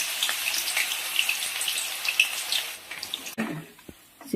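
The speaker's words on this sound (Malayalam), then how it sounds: "ഇടാം ചീനി ഇടാം വറുക്കാനായിട്ടിടാം" Continuous bright hissing and crackling of tapioca slices frying into chips in hot oil, fairly soft, with a few clunks and scrapes near the end.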